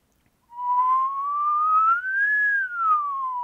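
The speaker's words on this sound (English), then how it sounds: "So if I were to whistle," A single clear whistled tone, steady and close, slowly gliding upward then easing back down over a few seconds, with no talking.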